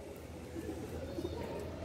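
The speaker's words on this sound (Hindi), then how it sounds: "और एक कबूतर भी आ रखा है, वहाँ बैठा हुआ है" A single pigeon gives a brief, quiet coo from a short distance, a soft low burble against faint ambient noise.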